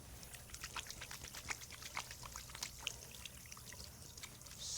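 Running tap water poured over hands at a sink during a handwashing step, a steady trickling pour with scattered splashes, fairly quiet and close, with no talking.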